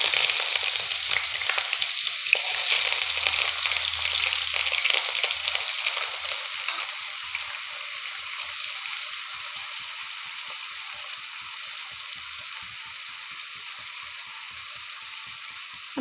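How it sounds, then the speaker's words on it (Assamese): Potatoes fry in hot oil for an Assamese laihak bhaji, a steady close sizzle that starts loud and busy, then settles into a softer, even crackle for the rest of the time. "এতিয়া মই ইয়াত আলু ভাজি ল'ম তেলত।"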